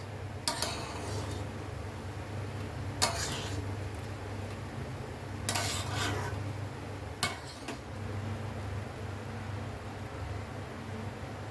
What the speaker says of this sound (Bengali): নাড়তে নাড়তে শুকিয়ে যাবে আস্তে আস্তে